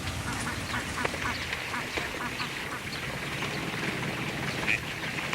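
Peking ducks quacking in the Chinese countryside, a crowd of overlapping quacks and calls heard at moderate distance over a steady outdoor background, with no talking.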